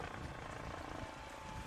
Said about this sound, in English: here comes that flyover with the helicopter